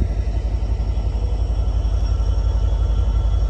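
An Amtrak San Joaquin train, number 711, sits at Emeryville station in California as it prepares to depart, giving a steady, close, low diesel rumble with a faint pulsing throb and no voices.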